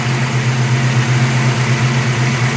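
A big-block engine fitted with Atomic MSD EFI fuel injection idles steadily and close by, a low, even rumble with a faint mechanical hum on top and no talk.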